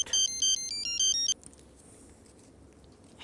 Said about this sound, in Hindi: फ़ोन बज रहा है एक आपका